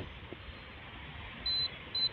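Two short, high electronic beeps come from a car remote receiver during remote pairing, spaced about half a second apart over a low background hiss.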